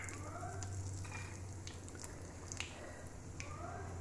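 Tempering spices crackle and sizzle in hot oil in a pan while bitter gourd curry is being made, a continuous close frying hiss with occasional small pops over a low hum, no talking.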